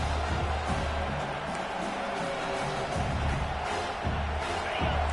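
Loud, steady roar of a stadium crowd at a football game on a fourth-down play, filling the whole clip as a dense wash of noise with swells of cheering.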